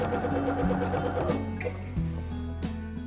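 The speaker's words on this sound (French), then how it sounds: "puis je pique avec un point zigzag" A sewing machine stitches a zigzag seam joining ribbed knit bands to sleeve hems, a quick rhythmic mechanical whirring with a few small clicks and stops, close and fairly quiet, with no voices.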